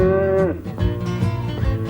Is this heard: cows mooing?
yes